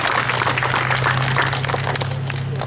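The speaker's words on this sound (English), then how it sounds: "another big round of applause for you guys" A crowd applauds students at a solar celebration ceremony with dense, steady clapping that stays loud throughout over a low electrical hum.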